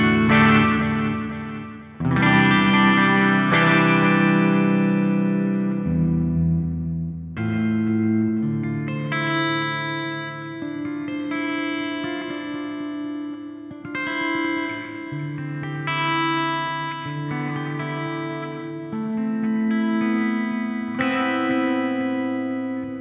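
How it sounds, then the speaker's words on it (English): Clean electric guitar through a ReAmp2 American Ambient Clean amp model with an impulse response, reverb and delay, no pedals, playing sustained chords and melodic lines with a soft, spacious echoing tail, steady and loud with no talking. "A really soothing sounding clean amp there."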